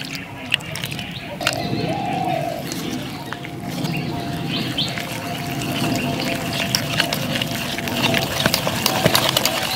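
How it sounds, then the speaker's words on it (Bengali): Chop batter being beaten by hand in a bowl for about three minutes, a steady wet slapping and patter that runs continuously at close range with no speech over it. "প্রায় মিনিট 3 খুব ভালোভাবে ফেটিয়ে নিলাম।"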